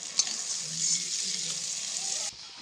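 Sliced onion and bitter gourd frying in a pan, giving a soft, steady sizzle with a faint stir partway through.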